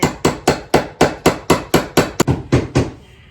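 Steady hammering on a front door being weather stripped, about a dozen sharp, loud, close blows in quick even rhythm, with a brief irregular double strike near the end before it stops, no talk.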